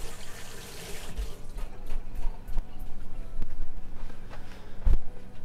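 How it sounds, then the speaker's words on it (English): Hands rinsed under a running kitchen tap while preparing pork, a steady close splash of water with a few brief knocks and clatters, no talking. "Okay, rinse my hands."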